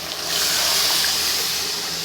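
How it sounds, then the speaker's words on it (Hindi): Water is poured into a pan of meat and pumpkin gravy, a close, continuous gushing rush that starts abruptly and holds steady to the end. "इसमें अपना जितना अपनी ग्रेवी रखनी है उस हिसाब से पानी शामिल करना है।"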